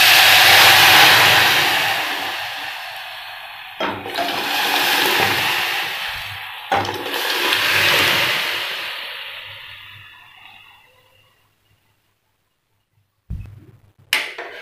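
Drumstick leaves curry (amti) is poured into hot tempering of browned garlic, cumin and asafoetida, giving a loud, broad hissing sizzle that surges in waves, fades out, then ends with a couple of clanks.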